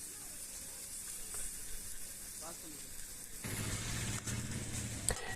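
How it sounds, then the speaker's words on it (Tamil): Potatoes frying in oil in a pan for potato egg kalakki, a quiet sizzle that suddenly swells into a louder, steady crackling hiss partway through. "ஆயில் வந்து கொஞ்சம் சேர்த்து ஊற்றி நல்லா வேக வச்சிடலாம்."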